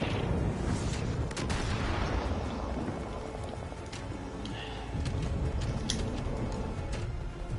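Mortar and gunfire in Far Cry 5, a dense barrage of booming thuds and sharp cracks over heavy rumbling, with a voice shouting briefly amid the noise.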